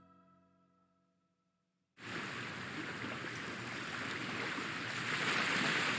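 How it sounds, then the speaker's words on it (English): After a moment of faint tonal music, a loud, steady rush of surf breaks in and keeps roaring, like waves crashing on a shore close by. "I heard the sound of waves crashing against the shore."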